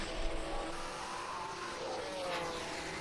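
A 1967 Ferrari Formula One car races through a sim-racing Grand Prix at Longford, its engine a steady, gliding drone that shifts in pitch through a corner, with no talk over it.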